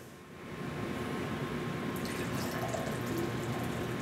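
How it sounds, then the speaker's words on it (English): Beer is poured into a glass, a soft steady stream of liquid that swells after a quiet start, then carries a faint fizzing hiss of foam rising, close and low in level with no talking. "I gotta swing myself around here to pour the beer"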